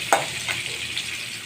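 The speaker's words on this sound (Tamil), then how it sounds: "இது நல்லா பொன்னிறமாக நம்ம வதக்கணும்." Chopped green chillies and onions sizzle and fry in a pan. A sharp burst comes at the start as they go in, then a steady crackling hiss continues close up.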